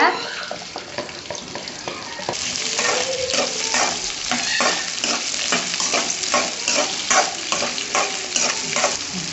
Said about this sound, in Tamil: எண்ணெய் நல்லா சூடானதுக்கப்புறம் வெண்டைக்காயை நல்லா போட்டு நல்லா வதக்கிக்கோங்க.